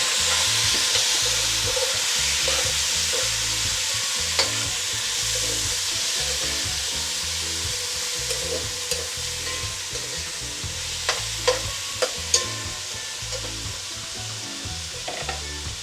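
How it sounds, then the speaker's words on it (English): Ingredients for Trinidadian saltfish buljol sizzle steadily in a pan over browned garlic, with spoon-stirring scrapes and a few sharp clinks rising from a continuous loud frying hiss; no talking. "I'll put all my other ingredients in it."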